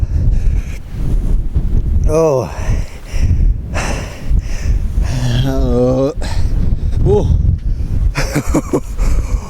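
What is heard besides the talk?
wind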